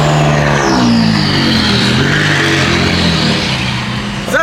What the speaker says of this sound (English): McLaren sounds so crazy